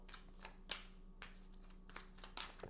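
Tarot cards are shuffled by hand, with soft, quick riffles and slaps repeating in irregular bursts, close but quiet.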